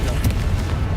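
A Confringo blasting spell fired in the video game Hogwarts Legacy, a deep booming burst with a brief crackling flare, loud and continuous over a heavy low rumble.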